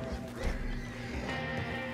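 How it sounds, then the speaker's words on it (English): A horse in the video game Red Dead Online whinnies loudly and close, with a blurred clip-clop of hooves underneath and game ambience continuing throughout the short stretch. "Oh my god, there's four horses."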